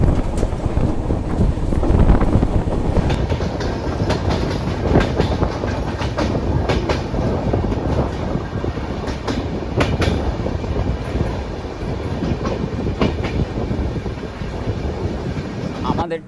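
A Garib Rath passenger train runs along curving track past tea gardens, its loud continuous rumble and rhythmic clickety-clack heard up close from inside, with wind buffeting the microphone.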